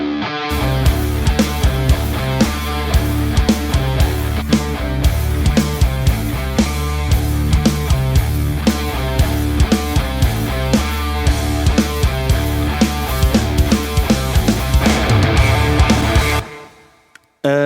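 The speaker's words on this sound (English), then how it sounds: "This is the sound of it without any plugins" Unprocessed heavy metal guitars play a dense, driving riff with pounding low-end rhythm over steady beats, loud and continuous before stopping suddenly near the end.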